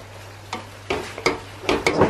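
Noodles, mushrooms and veggies stirred with sauce in a pan, giving a few close scraping, sizzling strokes spaced about half a second apart over a low steady hum.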